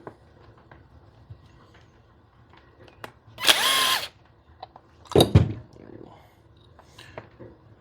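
A power drill backing screws out of a Cub Cadet carburetor from an abandoned machine, heard as two short close whirring bursts in a quiet workshop, the second shorter and rising, with faint handling clicks between.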